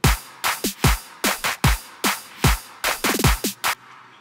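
Drum build-up in a track: a snare, clap, kick and hi-hat pattern of sharp, punchy hits, loud and close, quickening into a tight roll before cutting off.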